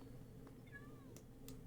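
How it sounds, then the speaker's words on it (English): A cat gives a faint, brief meow, a thin rising-and-falling cry in a quiet room with a couple of soft clicks around it. "Oh, hello, cat."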